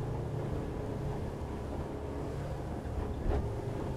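A boat fitted with Yamaha Helm Master EX running at 30 mph and 4,300 RPM gives a steady, loud engine and hull drone mixed with wind rush, continuous throughout with no talk.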